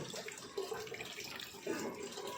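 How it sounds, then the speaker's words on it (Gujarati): Grated potatoes are rinsed in a bowl of water with soft, faint sloshing and two slightly stronger swishes. "આ રીતે એકદમ ચોખ્ખું પાણી થઈ જાય ત્યાં સુધી તેને ધોઈ કાઢવાની"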